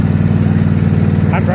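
John Deere X155R lawn tractor engine running with the choke off, a steady close mid-pitched drone with even pulsing, a voice briefly breaking in at the end.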